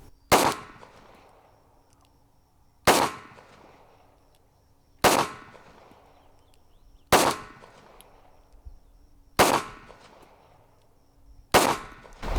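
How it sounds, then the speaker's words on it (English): Six sharp pistol shots ring out one at a time, about two seconds apart, at a red dot pistol training class outdoors, each crack loud and close with a short fading echo and no talking. "I just want you to just take one shot, come off the trigger"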